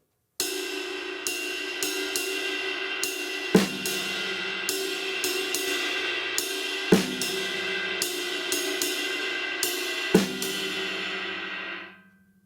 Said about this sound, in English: So if you just merely play on the and of 4 on the snare drum